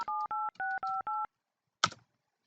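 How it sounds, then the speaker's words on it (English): A phone number is keyed in on a computer softphone's number pad, giving five short, evenly spaced touch-tone beeps in quick succession, then a single sharp click. "I could dial on my number pad the number I want to dial"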